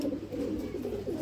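Rampuri and Pakistani breed pigeons coo in a steady, close, low warbling murmur that continues throughout with no voices.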